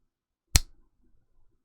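A single sharp finger snap lands directly in front of a cardioid condenser microphone, close and crisp, with a quick decay into silence.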